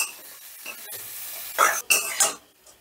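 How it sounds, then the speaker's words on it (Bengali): A spiced potato filling for aloo kachori, with fried spices and a handful of coriander leaves, is stirred in a pan. A soft sizzle sits under several distinct scraping strokes that grow louder toward the end. "এবার সমস্তটা আমি ভালো করে মিশিয়ে নিচ্ছি।"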